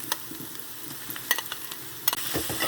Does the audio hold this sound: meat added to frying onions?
yes